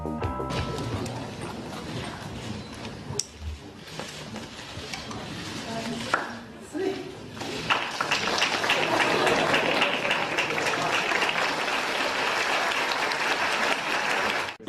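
Crowd cheering and applauding for François Hollande on a walkabout through a town, starting with mixed noise and clatter, then swelling into loud, continuous applause and cheers that hold for the second half.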